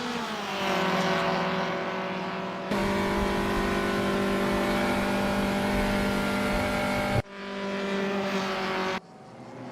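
Racing game cars at Paul Ricard's short 2a layout, heard along the Mistral Straight: a loud, steady high-pitched engine drone with strong harmonics, shifting abruptly in pitch as cars pass and change gear, ending with a sharp cut.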